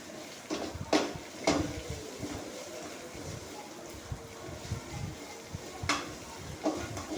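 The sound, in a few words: sautéing onions with ginger garlic paste in a pan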